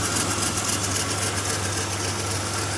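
A 1995 Dodge Caravan engine idles close by, a steady even hum with a faint rapid pulsing and no voices.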